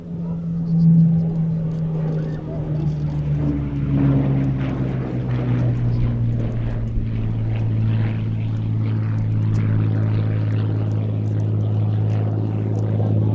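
A restored Hawker Hurricane propeller fighter flies at an airshow at Little Gransden, giving a steady droning engine hum with a sustained low tone that stays fairly constant throughout, with no talk.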